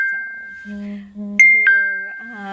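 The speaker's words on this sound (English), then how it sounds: "That's a little bell that goes up." A small bell chimes twice, bright and clear, each ring sustaining and fading over a low steady hum.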